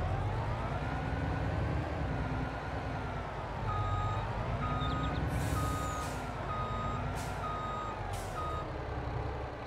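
A truck in Farming Simulator 22 sounds its reversing beeps, steady evenly spaced tones over a continuous engine rumble, with a few sharper clicks and hisses partway through.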